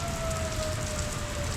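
Storm rain blowing in during a tornado warning, a steady dense hiss of wind-driven rain close by, with a faint tonal wail like a distant tornado siren underneath.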